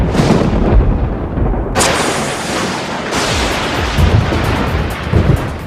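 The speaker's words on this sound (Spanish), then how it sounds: "Todos hemos visto rayos durante una tormenta eléctrica" Thunder from an electrical storm rolls as a loud, continuous low rumble, broken by two sudden sharp cracks partway through, with no voices.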